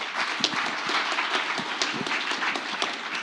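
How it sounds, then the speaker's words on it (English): An audience at a startup pitch night breaks into applause, a dense burst of many hands clapping at close range that carries steadily for a few seconds without talk. "A round of applause one more time."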